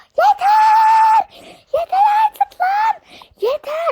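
Several high-pitched voices scream in sharp bursts, some long and sustained and others short, separated by brief gaps, loud and close.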